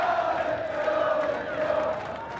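A football crowd roars at an FA Cup first-round match between Enfield and Orient, a sustained distant swell of cheering that rises and fades slightly.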